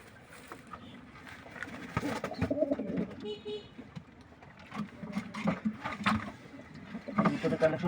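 Pigeons, including a Huma that is not a racer, coo softly among shuffling and fluttering in a loft, with a voice talking over them at moderate distance.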